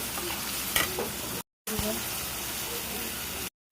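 Spices for a country chicken curry are sautéed in a pan with a steady close sizzle and occasional scrapes of the spoon, interrupted by two brief cuts to silence.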